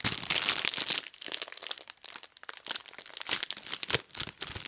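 A potato crisps packet torn open by hand, with dense crinkling and ripping plastic rustles filling the whole stretch, close and fairly loud with a few sharper crackling bursts.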